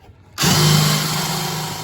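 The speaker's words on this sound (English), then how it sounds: "here's an example of what it's like to drill into polycore" A power drill bores into a polycore boat deck, starting abruptly and running as a loud, steady whine with a grinding edge for the rest of the moment.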